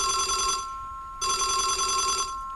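A telephone rings with a loud, bright electronic bell tone in two bursts separated by a short pause, set in a horror story.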